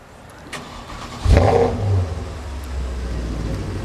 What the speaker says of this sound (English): He's gonna start it up here for us and we can kind of hear the V8 rumble.